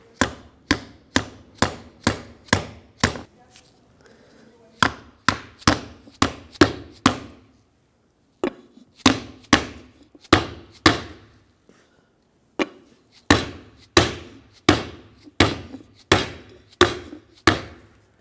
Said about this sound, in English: I'm going to use a rubber dead blow hammer and just tap it down.